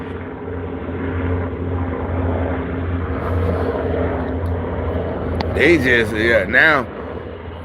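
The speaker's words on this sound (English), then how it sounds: "You hear this military helicopter." Military helicopters flying over Charlotte, North Carolina give a steady low rotor and engine drone, with people talking over it near the end.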